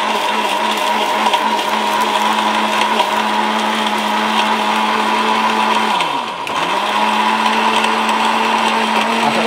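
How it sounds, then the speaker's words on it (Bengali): A Miyako electric curry cooker with a blender grinds turmeric in a loud, steady whirring drone that briefly dips in pitch and then returns to full speed. "হ্যাঁ ব্লেন্ডারের মধ্যে এটা করতে পারেন।"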